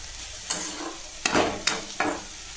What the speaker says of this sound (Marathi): छान असं परतून घेतलं आहे।